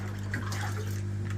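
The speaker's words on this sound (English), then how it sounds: "getting a jug full of water straight from the tank" Water runs from a storage tank into a jug for soaking chilli plants, a steady close rushing pour over a low hum with no talking.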